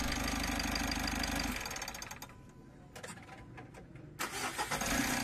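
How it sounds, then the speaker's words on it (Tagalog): A Euro4 Mitsubishi L300 diesel engine is shut off and restarted: a loud steady idle rumble cuts out, a quieter lull with clicks follows, then the engine cranks and fires back up at the end. "Switch off ko naman itong makina para makita ko yung starting niya."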